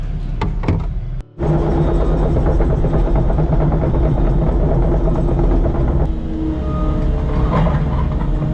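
A heavy machine's diesel engine idles and warms up on a job site where a 1500 gallon concrete septic tank is being installed, a loud, steady rumble with a brief cutout near the start.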